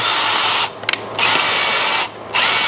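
Power drill boring out a rivet on a 1986 Harley-Davidson, a loud, steady high whine that cuts off twice with brief pauses in between, close up with no speech.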